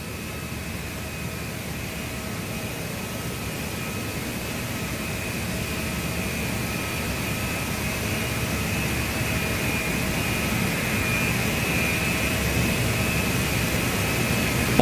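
Jet engines of an A321 airliner in the ToLiss flight simulator spool up with a steady, broad roar and a thin whine that slowly grows louder, with no one talking.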